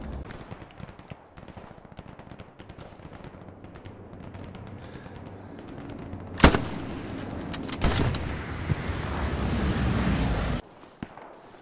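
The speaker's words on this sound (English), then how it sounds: "I heard his gunshots." Gunfire in a Hell Let Loose battle, with a sharp nearby crack standing out against a rumbling backdrop of distant shots and booms that builds and swells, then cuts off abruptly near the end.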